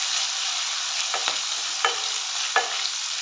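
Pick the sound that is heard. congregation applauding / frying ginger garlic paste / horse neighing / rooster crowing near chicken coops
frying ginger garlic paste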